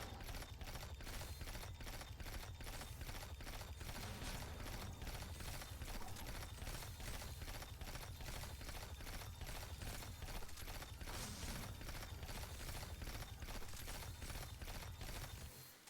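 Outbreak weapon from Destiny 2 firing in rapid, evenly spaced bursts, a dense continuous rattle of sharp shots running steadily for the whole stretch at high loudness with no pauses.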